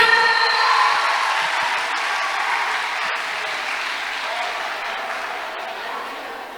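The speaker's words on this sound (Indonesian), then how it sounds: "Tepuk tangan yang meriah." Audience applause at a national seminar on stunting, a sustained wash of clapping from a large crowd that holds steady and then tapers slightly, with no talk over it.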